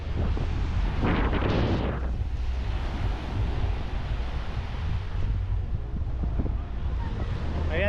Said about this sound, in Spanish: el mar está estupendo